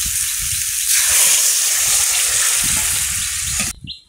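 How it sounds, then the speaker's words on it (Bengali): Water hits a hot frying pan with a loud, steady, close hiss of sizzling and bubbling that runs unbroken for several seconds, then cuts off sharply. "জল দেবো"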